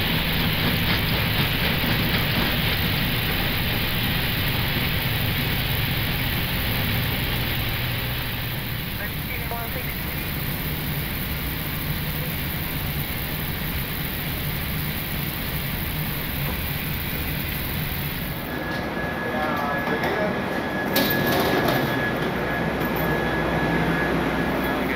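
An airliner's engines roar in reverse thrust during the landing rollout, a broad, steady rushing thunder that gradually fades, followed by quieter rattling and cockpit noise near the end.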